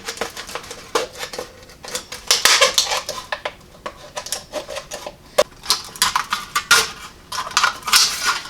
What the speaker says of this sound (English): cut these beer cans down and make some patches out of them